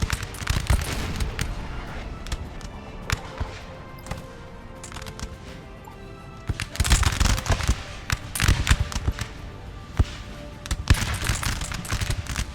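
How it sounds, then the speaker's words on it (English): Musket volleys in Napoleon Total War crackle in ragged, layered bursts of massed shots, some near and sharp, others more distant, with heavy clusters recurring through the stretch and no talk. "Some fine shooting there, Tex."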